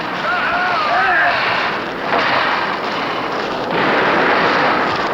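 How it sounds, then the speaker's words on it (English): British infantry fire musket volleys at French ranks in an eighteenth-century battle: loud, broad, roaring bursts of gunfire that swell and fade over several seconds, mixed with distant shouting voices. "advance 20 paces, and fire another series of volleys at the French"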